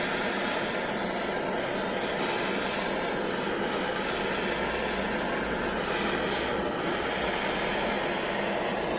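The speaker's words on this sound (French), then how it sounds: "On met un petit coup de chalumeau." Steady, loud roaring hiss of a kitchen blowtorch browning the top of a chicken and Comté gratin inside a camping car, continuous and unbroken throughout with no talking.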